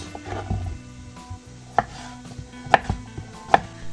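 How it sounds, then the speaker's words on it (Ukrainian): A knife chops pumpkin for a vegetable soup, a few sharp, distinct thuds on a cutting board at irregular intervals, close and clear over quiet kitchen background. "Тим часом подрібнюю гарбуз."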